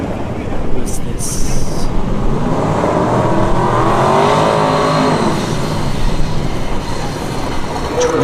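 A twin-turbo New Edge Ford Mustang drag car at a drag strip drones loudly and steadily, its engine tone swelling midway, with brief voices over it.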